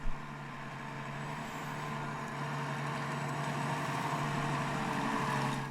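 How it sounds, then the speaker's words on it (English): A tractor's steady low engine drone rumbles in the distance from a field beside a canal, constant and unbroken, like heavy machinery running across open ground. "in the field next to my boat, there's a tractor."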